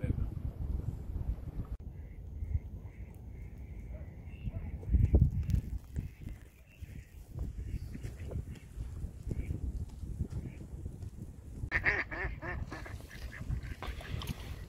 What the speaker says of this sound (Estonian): Linnud.